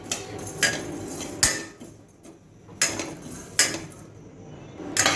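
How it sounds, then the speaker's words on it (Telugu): Cumin and coriander seeds are dry-roasted in a pan, heard as a handful of sharp metallic clinks and scrapes of a spoon against the pan, spaced about a second apart, close and fairly loud over quiet background. "1 స్పూన్ జీలకర్ర, 1 స్పూను ధనియాలు. ఇవి లైట్గా దోరగా వేపుకోవాలి"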